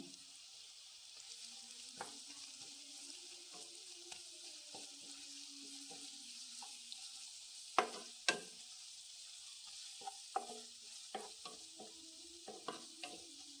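Crushed ginger, garlic, green chili, cloves and cardamom fry in a pan with a steady soft sizzle, broken by scattered scraping and stirring clicks of a spoon against the pan.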